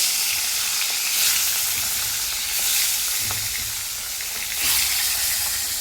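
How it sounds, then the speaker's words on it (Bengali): Rohu fish pieces frying in hot oil, a loud, steady close-up sizzle that swells and eases slightly in waves, with no voices over it. "এবারে মাছগুলোকে ভেজে নেব"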